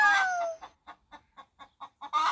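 A hen clucks in a steady series of short, evenly spaced clucks, opening and closing with louder, drawn-out squawks, close and alone.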